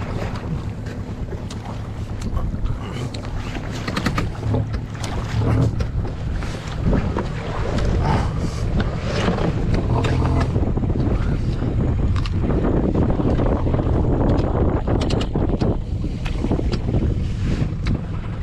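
A boat sails out on open water, carrying steady, loud wind buffeting across the microphone along with broadband rushing water noise throughout, with no voices heard.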